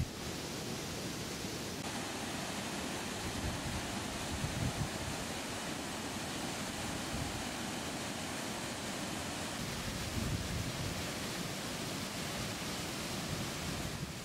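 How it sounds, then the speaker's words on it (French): Broad, steady roar of the El Chiflón waterfalls on the Rio San Vicente in Chiapas, a constant wash of falling water heard alone without any voices for the full length. "la découverte des imposantes cascades El Chiflón se fait tout au long d'un chemin qui remonte les rives du Rio San Vicente"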